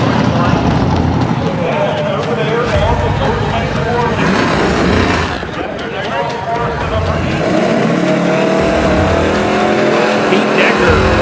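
Street cars launch at a drag strip, engines roaring loud and continuous from start to finish, with a brief dip as one pulls away, while a commentator talks over the racing.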